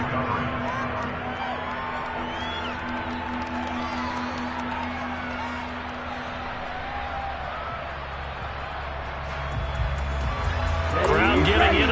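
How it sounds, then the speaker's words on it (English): A stadium crowd in an American football video game roars steadily throughout under a commentator's talk, swelling louder with whoops near the end. "Crowd getting in it a bit already."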